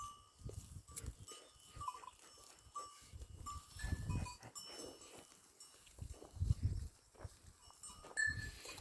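Goats bleat now and then amid a murmur of livestock, with some faint clanks and shuffling around the herd.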